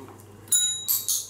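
A miniature poodle puppy rings a small bell: three bright, close metallic dings in quick succession, each with a short shimmering ring, over a quiet room hum.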